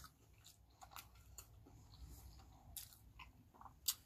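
Crunchy spicy battered cheese curds from A&W being chewed close to the mic, with soft repeated bites and wet squishy chewing, quiet and without talk.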